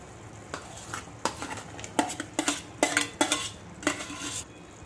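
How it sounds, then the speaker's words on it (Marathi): A metal spoon stirs chopped ridge gourd into half-cooked dal in a pan over low heat, making a close, uneven run of clinks and scrapes with a faint sizzle underneath and no talking. "आता त्यात आपण दोडक्याची भाजी घालून घेऊ."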